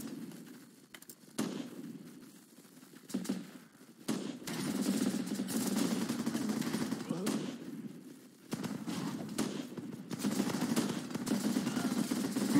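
Machine gun fire in the video game Running with Rifles, bursts of distant rattling shots around a farm position with a rough, continuous battle din, under someone talking.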